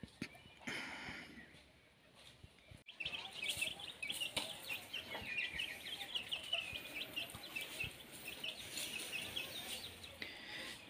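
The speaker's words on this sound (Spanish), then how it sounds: "Miren, por acá anda el gallo" Chickens and a rooster on a small egg-laying farm, clucking and chattering steadily in a busy flock, moderately close, with faint rustling and no talk.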